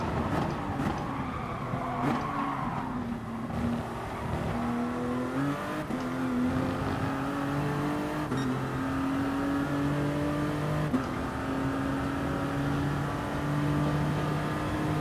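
Race car engine in GT Sport during an FIA Nations and Manufacturers Cup online race, a steady loud drone with rising pitch sweeps through the gears and brief dips at shifts, continuous for about fifteen seconds.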